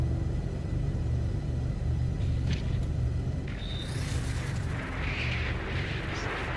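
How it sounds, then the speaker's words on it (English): Storm wind in the No Man's Sky video game, a loud, steady, roaring rumble with gusty hiss swelling near the end. "Listen to that wind"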